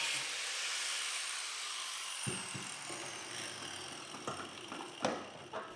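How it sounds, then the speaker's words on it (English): Angle grinder grinding out welds on a high strength steel chassis for a 2015 Coyote Mustang, a loud sustained whine that shifts pitch midway and then turns choppy with harsh bursts of metal contact, close up and without talk. "Grind out a couple welds that we forgot."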